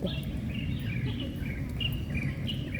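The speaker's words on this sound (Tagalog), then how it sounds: "ang cute nung ibon" A bird calling at a pier on Lantau Island, Hong Kong, giving a series of high repeated chirps and short whistled notes over a steady low outdoor background hum.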